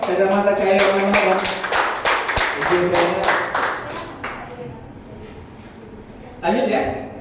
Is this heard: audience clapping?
yes